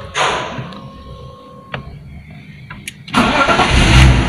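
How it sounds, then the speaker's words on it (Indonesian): A 1997 BMW E36 323i with a 2.5-litre engine and manual gearbox cranks briefly and then fires up, its engine catching with a loud, close roar that settles into a steady running rumble. "Kita nyalain dulu mobilnya"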